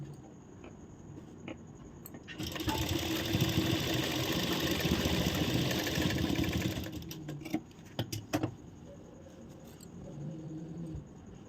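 A sewing machine stitches the final seam of a blouse, a loud, fast, steady whir lasting several seconds, then stopping, followed by a few sharp clicks and quieter handling sounds, with no speech.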